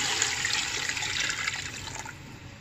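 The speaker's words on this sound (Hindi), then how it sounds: "और मैं इसमें डालूंगी अब पानी" Water pours steadily into a pot of beef nalli nihari meat and bones for a homemade Karachi-style nihari, a continuous close splashing stream lasting the whole moment without talk.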